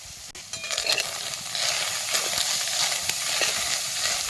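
Field beans (pavta) roast in a dry pan, giving a crisp, rustling sizzle broken by light scraping and stirring clicks that keep up steadily.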